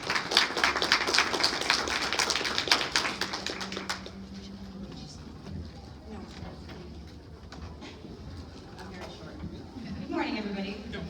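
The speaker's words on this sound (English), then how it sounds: "Let's give a round of applause for Angela." Audience applause at a talk on community cat complaints, loud clapping for the first four seconds that quickly dies away, followed by quiet room noise and a voice beginning to speak.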